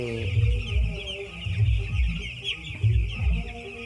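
Young chicks on a poultry farm chirp in a dense, continuous chorus, with lower clucking and thumping mixed in close by.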